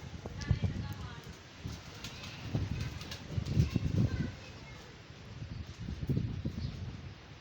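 Pigeons coo softly and flutter nearby in bursts, with low rustling and someone speaking in the background.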